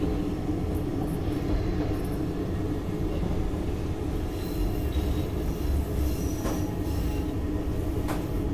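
An elevated metro train running empty out of service toward the yard, a steady loud rumble of wheels on rails with faint squeals and brief high screeches, no voices.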